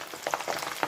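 Garlic, mustard seeds, urad dal and dried red chillies sizzle in hot oil for a tempering for Telugu tomato pickle, a steady close crackle with brief louder pops, no voices.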